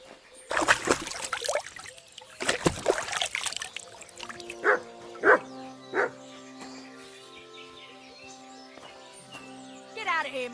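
A dog named Mutt barks in Kingdom Come Deliverance 2, several sharp barks mixed with splashing water and people talking, followed by a sustained musical tone.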